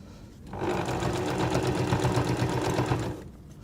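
A sewing machine stitches binding around a quilt, running in a steady fast mechanical chatter for about three seconds, close and loud, starting and stopping cleanly.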